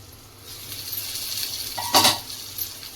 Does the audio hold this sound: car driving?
no